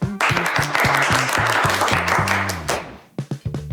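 Audience at a school emoji sketch show applauding, a dense wash of clapping under repeating music that fades out near the end before a few separate louder hits.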